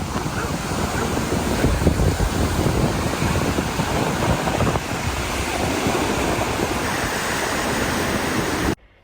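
Continuous surf and sea wash at the Tramore beach resort on Ireland's east coast, with heavy wind buffeting the microphone throughout before an abrupt cut at the end.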